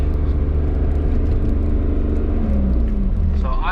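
A 2001 BMW 330xi engine drones loudly and steadily from inside the car while driving, a deep constant rumble with a slight pitch change near the end as a gear shift happens.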